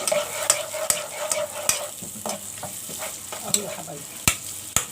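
Sliced onions frying in a pan, stirred with repeated sharp scraping strokes over a steady sizzle, close and fairly loud, with a brief spoken remark.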